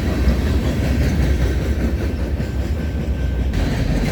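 A BNSF freight train with locomotives passes close by in Alabama, its loud steady rumble of wheels and rail cars rolling on without pause.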